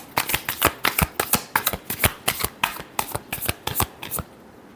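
A tarot deck is shuffled by hand in rapid, rhythmic riffles, about a dozen and a half crisp, close card slaps in quick succession before stopping, with no talk.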